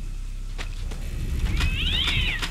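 A cat meows twice in the horror video game Sophie's Curse, a drawn-out, wavering cry standing out over a low, steady background rumble with a few sharp clicks before it.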